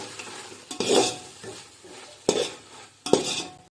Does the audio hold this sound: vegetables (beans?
yes